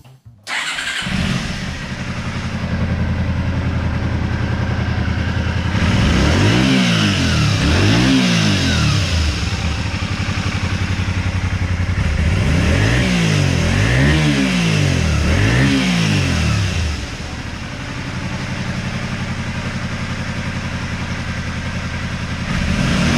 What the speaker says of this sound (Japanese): その次にエンジンかけたいなと思います。